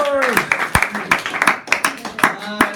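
A comedy club audience claps in a loose, scattered round of individual hand claps, close and fairly loud, with a voice speaking over the start.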